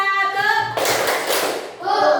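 Classroom students clap a first clapping pattern together, a dense burst of hand claps lasting under a second, with children's voices chanting before and after.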